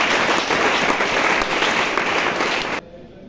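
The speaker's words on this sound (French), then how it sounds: "On acclame pour le Seigneur." A church congregation applauding and cheering in praise of the Lord, a dense, steady wash of many hands clapping that stops abruptly at the end.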